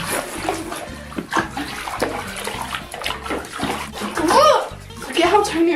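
Water splashes and runs steadily while a cat is rinsed during a bath, close and continuous, with a person talking over it throughout.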